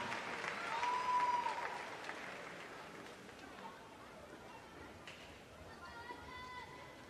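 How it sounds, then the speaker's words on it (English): A large crowd at a University of Evansville Hoopfest basketball event in 2016 applauds the university dance team. Steady clapping and cheering mix with crowd chatter, and a brief whistle-like tone rises near the start. "Give a nice round of applause to the University of Evansville dance team."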